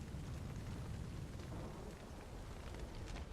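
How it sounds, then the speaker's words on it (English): Steady, faint rain in The Witcher 3: Wild Hunt, a continuous hiss and patter with a low rumble underneath, no voices. "At least it's raining."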